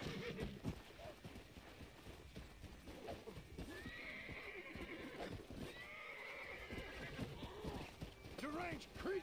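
A horse in the game Red Dead Redemption: Undead Nightmare whinnies and neighs while its hooves clop steadily for several seconds, with talk faintly present underneath.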